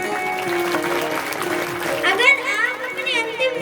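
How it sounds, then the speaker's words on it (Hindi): Audience applause at a Bhagavat Katha religious gathering in Chhatarpur, a steady wash of clapping throughout with a voice and music-like tones running over it. "तालियां हमारे भाइयों के लिए।"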